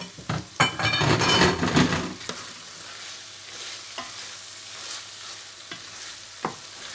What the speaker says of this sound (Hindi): अब हम भिंडी भी साथ भूनेंगे ताकि जो मसाले हैं इनके साथ भी अच्छी तरह मिक्स हो जाए